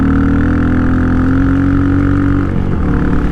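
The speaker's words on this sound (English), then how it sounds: "Can you all hear that muffler? She's just singing." A Royal Enfield Meteor motorcycle on Shinko tires, ridden over heavy gravel, drones steadily through its muffler with a loud, continuous exhaust note that dips briefly near the end.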